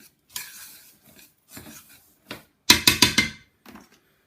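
Crumble ingredients, including flour and poppy seeds, are mixed briskly in a bowl: scattered scrapes and soft thumps, then a quick burst of four sharp clinks of a utensil against the bowl, close and otherwise quiet.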